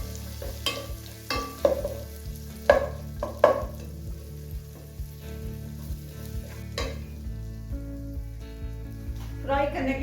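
Ingredients frying in ghee in a pan for sheer korma, a steady sizzle broken by several sharp scraping clatters of stirring, louder in the first half and again near the end.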